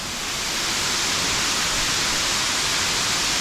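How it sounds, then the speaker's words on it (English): Fitzroy Falls, a waterfall pouring over cliffs near Sydney, roars as a dense, loud and continuous wash of white noise with no voices over it. "the little waterfall we saw from the Twin Falls lookout goes over the cliffs just over"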